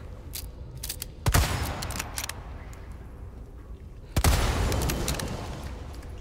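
Two sharp, loud bursts of gunfire in the Resident Evil 4 video game ring out a few seconds apart, each trailing off into a decaying rumble, with fainter shots and clicks in between.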